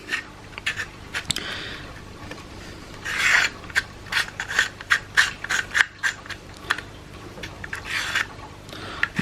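Removing an end plate and castle nut from a rifle buffer tube, heard as repeated close rasping and scraping strokes of metal parts with a few sharp clicks, uneven in rhythm, with no talking.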